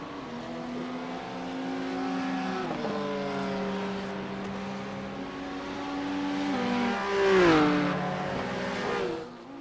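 GT3 race cars in a racing video game at WeatherTech Raceway, including a Ferrari and a BMW, engines droning with steady tones that shift pitch through gear changes and swell as cars close in.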